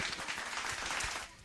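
Audience at a school event clapping in a dense, steady burst of applause, moderately loud and slightly distant, no voices.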